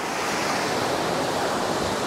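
Sea waves wash onto the shore at night in Chanthaburi, Thailand, making a continuous, fairly loud rushing surf with some wind noise. No one speaks.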